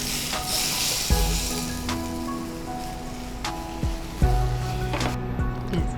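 Curry leaves tempering in hot oil in a pan for a bitter gourd dish sizzle as a steady crackling hiss, with a few sharp clanks of utensils and low background hum.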